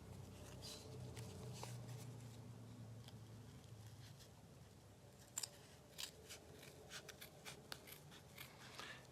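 Scissors snip through folded paper for a floral gnome hat, a few soft, close cuts near the end after a stretch of faint room noise, with no talking.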